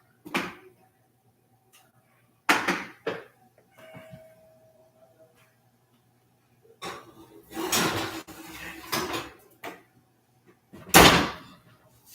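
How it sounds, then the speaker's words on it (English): Oven door bangs and rattles in a home kitchen as a Thanksgiving dish goes in, several separate clunks and scrapes with quiet gaps between, the loudest thump coming near the end. "I'm going to put this in the oven"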